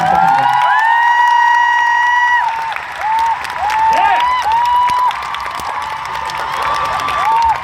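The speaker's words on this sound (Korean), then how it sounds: "여러분 큰 박수" An outdoor crowd at the 2016 Jarasum Musical Festival applauds and cheers the orchestra, with sustained orchestral tones ringing loudly over the clapping for about eight seconds.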